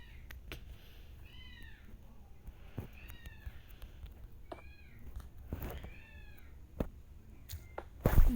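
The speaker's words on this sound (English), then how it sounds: "Guys, my cat is screaming." A cat meows loudly several times in drawn-out, rising-and-falling calls, spaced a second or so apart, with scattered household knocks and a loud thump at the end.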